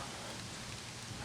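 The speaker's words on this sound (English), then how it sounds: "You can see the rain's really starting to come down now." Steady rain falling on a Grand Am GT car, a dense continuous hiss and patter of drops heard up close, with no talking.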